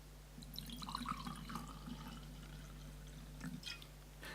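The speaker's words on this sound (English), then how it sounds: "We're about to hear on this podcast for the first time ever wine being poured into a glass." Wine is poured into a glass close to the microphone, a soft gurgling trickle with small splashes over a low steady hum, quiet and without talk.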